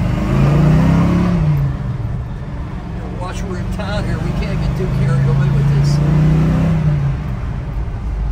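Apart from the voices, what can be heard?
1970 Chevrolet El Camino SS 396 engine revving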